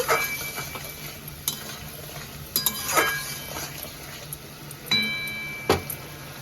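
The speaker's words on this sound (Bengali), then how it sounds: "পরিমাণ মতন লবণ দিয়ে দেবো দিয়ে দেবো হলুদ এবার ভালো করে আমি কষিয়ে নেব" Shol fish sautéed with salt and turmeric in a pan gives a low background sizzle broken by scattered sharp clinks and scrapes of a utensil against the pan, several spaced hits across the stretch, no talk.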